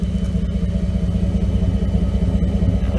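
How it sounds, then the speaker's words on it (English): 2008 Ford Expedition V8 engine with an upgraded exhaust idling nearby, a steady low throaty rumble with a regular loping pulse. "Now that's how a V8 should sound at idle. Nice. Low rumble."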